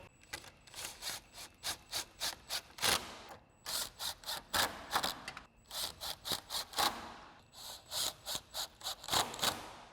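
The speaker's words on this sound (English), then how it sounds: "we're using our 10mm socket and extension on our impact" Impact wrench with a 10mm socket on an extension driving headlight mounting bolts on a 2014-2018 GMC Sierra 1500, in repeated fast bursts of rattling hammering with short pauses between them, close and fairly loud, with no talk.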